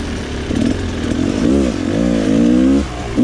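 Rieju 300 dirt bike pulling hard on the throttle without the clutch, the engine note climbing and wavering in pitch as it revs up close and loud over about three seconds.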